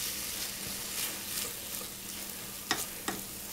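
Onions frying for broccoli and cheese soup hiss and sizzle steadily in a pot while being stirred, with a couple of sharp spoon scrapes near the end.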